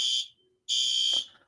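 Two loud, shrill electronic fire alarm blasts, each about half a second, separated by a brief gap, with a soft thump at the end of the second.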